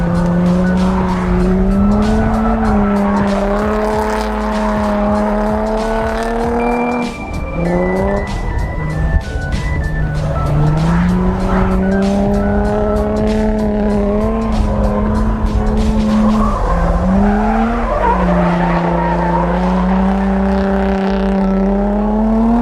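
A Toyota AE86 drifting around a figure-eight course with a loose rear end, its engine note rising and falling through gear changes while tires squeal in long sustained screeches, loud and close throughout.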